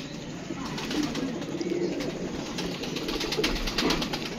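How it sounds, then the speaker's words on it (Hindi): Pigeons coo softly and repeatedly against a busy outdoor background of rustling and scattered noise. "ये कबूतर है।"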